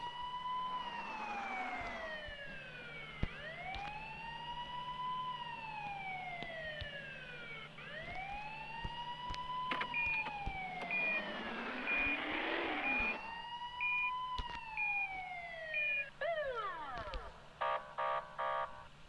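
A police sheriff car siren in a US police car parking video game wails in long rising and falling sweeps, steady and fairly loud. It ends with a burst of rapid electronic beeps.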